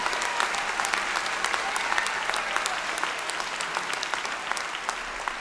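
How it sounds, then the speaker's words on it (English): Applause for award-winning NYU Wagner students at a convocation ceremony, a dense, steady round of clapping from a large audience that holds an even level throughout, with no break in the sound. "Let's have a round of applause for all the NYU Wagner students who won an award"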